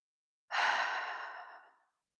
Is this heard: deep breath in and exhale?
yes